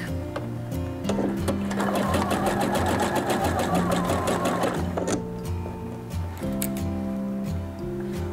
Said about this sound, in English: take out your pins as you sew, and just sew all the way around, but stopping before you reach the center back